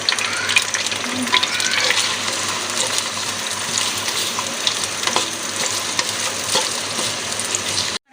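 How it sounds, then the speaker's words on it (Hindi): Small onions sizzle steadily in hot ghee for chicken karhai, a continuous bright frying crackle with occasional stirring scrapes, close and even throughout, no voices. "प्याज़ों को फ्राई कर लेंगे ताकि ये लाइट ब्राउन हो जाए"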